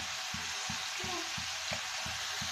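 Ground spices, turmeric, cumin, chilli and coriander, sizzling in oil in a pan for an eggplant bharta, a steady close hiss with soft rhythmic scraping of a spoon stirring, no voices.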